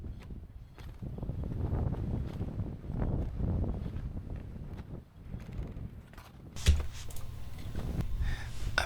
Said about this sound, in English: it is always very windy on this Norikura area